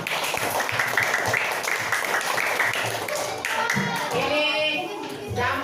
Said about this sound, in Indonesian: Oke, tepuk tangan untuk 3 orang.